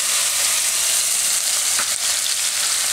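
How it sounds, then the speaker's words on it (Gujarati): Cumin seeds sizzle in hot oil for a Rajasthani dahi papad curry, a loud, close, continuous frying hiss that never lets up. "તેલ આપણું ગરમ થઈ ગયું છે તો એમાં આપણે જીરું નાખીશું."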